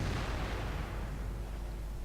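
A heavy tank gun in World of Tanks blasts a shot at a wall, a single deep boom that rolls out into a long, low rumble fading slowly away.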